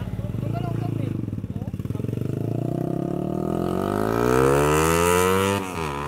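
A Mio and a Raider motorcycle engine revving up, the pitch rising steadily over several seconds with a loud, close buzzing drone.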